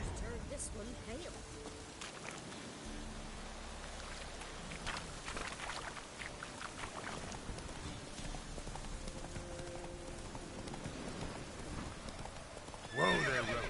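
Hooves of Roach, a horse in a video game, clip-clop steadily at a walk, with a whinny and neigh, voices talking over the ambience and music, and a louder burst near the end.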